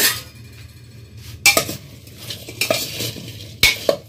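Chopped mango pieces being mixed with turmeric and salt for pickle, a spoon scraping and clinking against the bowl in a few sharp strokes between quieter stirring, close up.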